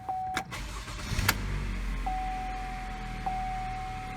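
A Chevy Malibu engine with a dual battery fault cranks briefly and catches, settling into a steady idle hum, with a faint chime tone sounding nearby.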